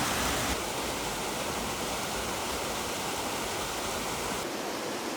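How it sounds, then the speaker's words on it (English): Small springs and streams near the Calcaferro mines in Tuscany make a steady, loud rushing water sound like a broad flowing stream, constant throughout with no voices. "There's a lot of water around here. There are little springs and streams."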